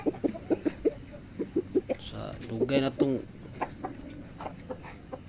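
Basilan and Shamo gamecock chickens cluck in short repeated bursts, with a louder squawking call in the middle, while someone talks nearby and a steady insect drone runs underneath.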